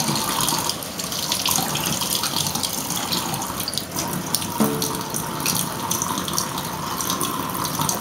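Cold water runs steadily from a tap into a sink while a makeup brush is wetted for cleaning, a continuous close hiss and splash with no talking.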